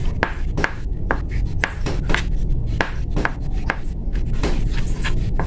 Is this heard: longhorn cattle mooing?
no